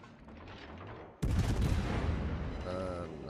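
Heavy naval guns firing a salvo in World of Warships from the French cruiser Henri IV: a sudden loud broadband boom erupts after a quieter stretch, then rumbles and rings on with lingering mechanical tones.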